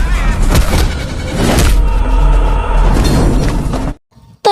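A car slams into a motorbike in a loud Indian film scene: a dense, roaring crash with booming impacts and crunching metal and glass, cutting to near silence before another loud burst.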